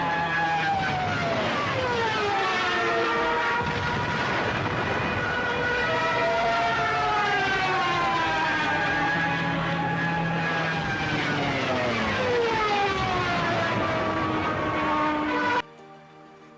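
A Stuka dive bomber's wailing, pitch-bending siren in a Call of Duty game rises and falls over the steady roar of its aircraft engine, continuous and loud, cutting off abruptly at the end.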